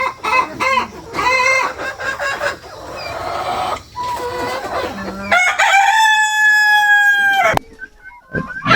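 Several roosters and hens on a farm make close, loud calls: clucks in quick bursts, then a long drawn-out rooster crow near the end.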